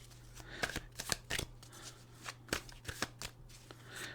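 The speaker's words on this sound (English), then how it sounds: "I'll shuffle that up a little bit" Tarot cards being shuffled by hand, a run of crisp, irregular riffling and slapping bursts that are close and fairly quiet, with no talking.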